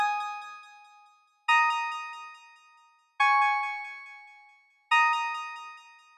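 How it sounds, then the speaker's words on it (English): Bright synth preset chords from FL Studio Mobile, four sustained chords struck about every 1.6 seconds, each ringing with rich harmonics and slowly decaying, clear and alone with no talk. "a progression for bright preset which you can find easily on FL Studio Mobile."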